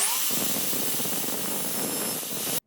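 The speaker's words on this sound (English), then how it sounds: "So I'm drilling a 1/8 hole through the metal and the wood." A power drill bores a 1/8 inch hole through metal and wood on a classic Austin Seven sunroof sliding section, giving a steady, close, hissing grind that stops abruptly.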